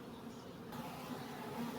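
Honeybees shaken into a nucleus hive buzz in a dense, steady hum close by, with a low droning texture throughout the short stretch.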